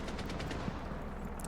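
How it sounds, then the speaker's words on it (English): Gunfire from a secondary shotgun in a Rainbow Six Siege esports match, heard as a dense run of sharp shots under constant crowd-like noise, with one louder blast near the middle. "Chibisu decides to slaughter him with his secondary shotgun"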